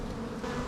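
Honey bees hum densely inside a hive box of frames during an early-spring inspection, a constant, close, droning buzz with no voices.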